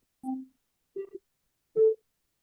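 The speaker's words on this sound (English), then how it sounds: "The doorbell was ringing, so for some trick or treater." Three separate electronic doorbell chimes sound a moment apart in a quiet room during a Halloween evening when trick-or-treaters call, the last tone the loudest and cleanest.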